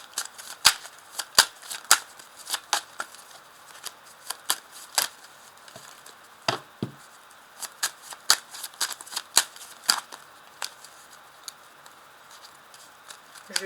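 Tarot cards handled and shuffled for a reading, a string of sharp, close riffling snaps and taps in irregular bursts, fairly quiet with no talk.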